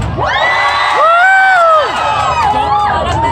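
A street parade crowd at the Panagbenga 2023 festival in Baguio shouts and cheers loudly. Voices rise and fall in long, excited whoops and calls, close and continuous.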